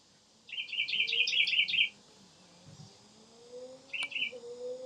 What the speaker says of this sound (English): I can hear your birds chirping.